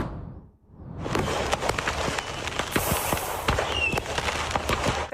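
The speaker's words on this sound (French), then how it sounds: "Une série d'explosions avec des étincelles dans toutes les directions." Rapid bursts of exploding fireworks from a truck on fire on a Tennessee highway at night, dense crackling pops and thumps going off continuously and loudly with no speech.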